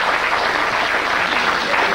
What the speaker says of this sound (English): Round of applause for Graham.